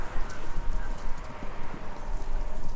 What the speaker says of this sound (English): Sounds like horses running a race.